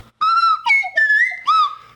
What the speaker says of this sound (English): I've got a fever and the only cure is more slide whistle